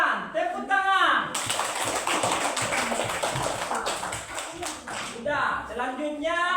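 Classroom clapping of hands from a group of students, a dense burst of claps lasting several seconds, with speech-like voices at the start and end.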